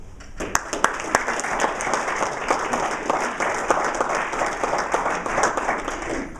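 An audience applauds steadily as speaker Adam Weinberg is welcomed to the podium, a dense sustained patter of many hands clapping at even volume throughout, with no talk over it.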